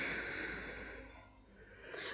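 A soft, deep exhale through the nose during a yoga breathing exercise, a single faint, airy breath lasting about two seconds, heard close and quiet.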